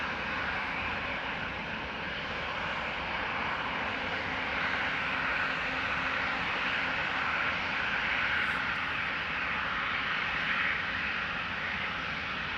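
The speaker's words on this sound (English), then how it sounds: "flight 121 to Milan, A220 300, Bombardier C Series 300, what a machine" Airbus A220-300, the former Bombardier C Series 300, an Irish-registered and brand-new jet departing Schiphol for Milan, roars steadily and loudly throughout, its broadband engine noise swelling slightly midway without pause.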